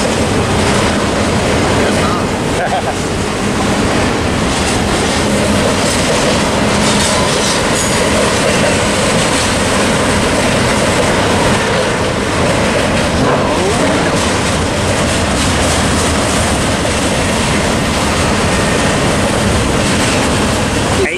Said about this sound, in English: Hey, YouTube, here comes the end of this stacker.